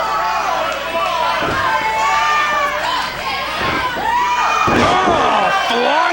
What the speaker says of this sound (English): the crowd calling for one more T-bone suplex